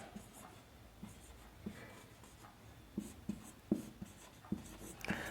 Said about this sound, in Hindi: मैं एक सामान्य सा वाक्य लिखता हूं